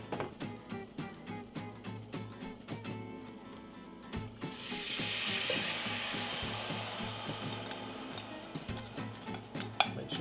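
Wet BBQ sauce ingredients poured over onions and garlic in a pan, rattling utensil clatter at first, then a rising hiss of sizzling that holds steady with intermittent stirring knocks.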